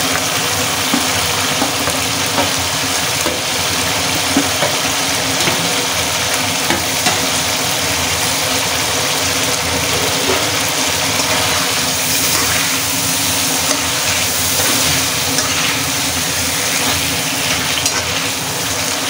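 Lightly fried hilsa fish and fried potatoes sauté in a pan with a steady, loud sizzle that continues unbroken throughout, with faint stirring noises.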